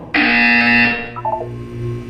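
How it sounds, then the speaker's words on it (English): A loud, sustained electronic buzzer from the video game Portal 2 blares for about a second, then decays into a fading electronic tail with a few softer tonal blips. "You will hear a buzzer."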